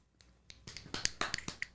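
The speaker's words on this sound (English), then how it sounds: "so I think that deserves claps" Scattered, sharp hand claps start sparse and quicken into a quick irregular patter, close and fairly quiet in a podcast-style setting after a baseball team avoided a sweep.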